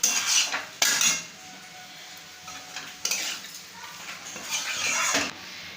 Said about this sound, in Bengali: সেদ্ধ করে জল ঝরানো মেটেগুলো, সেগুলো একবারে দিয়ে ভালো করে কিন্তু এবার কষাতে হবে